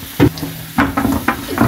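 Garlic sizzles in hot oil as a tempering for a bitter gourd and chana dal dish, crackling in loud bursts as the pan is stirred.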